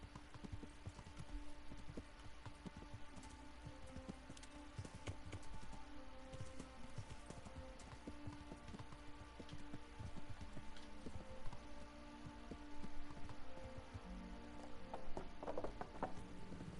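Horse hooves clip-clop in a steady rhythm in the medieval video game Kingdom Come Deliverance, fairly quiet and continuous beneath game music and ambience, with no talking.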